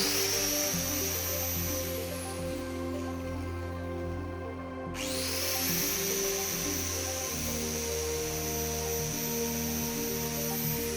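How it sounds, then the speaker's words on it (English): An 800-watt angle grinder runs loud and continuous with a high whine, dips briefly as it slows, then spins back up to full speed and keeps running. "We're also now going to plug in this 800-watt angle grinder."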